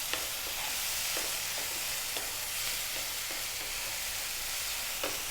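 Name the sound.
frozen peas dropped into a pan of cooked tomatoes, sizzling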